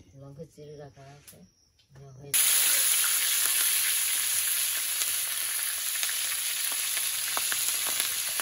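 Cumin seeds and chillies hitting hot oil for a boal fish curry: after a few seconds of speech, a sudden loud hiss bursts in and continues as a steady close sizzle with small pops and crackles.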